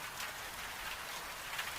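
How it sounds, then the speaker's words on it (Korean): Steady rain patters against a window glass, a soft, even hiss of drops with no voices. "창문에 부딪히는 저 빗방울 소리를 가만히 들어보세요"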